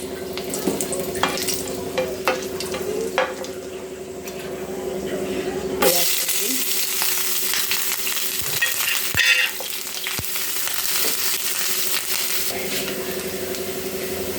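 Dried red chillies frying in hot oil in a pan, a loud, dense sizzle with scraping stirs and crackles, sharpening into a burst of spitting midway, while a voice talks over it.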